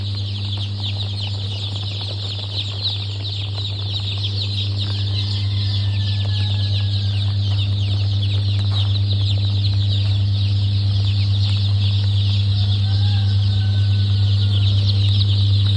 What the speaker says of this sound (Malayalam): ഇതെല്ലാം റെയിൻബോ റൂസ്റ്റർ കോഴിക്കുഞ്ഞുങ്ങളാണ്.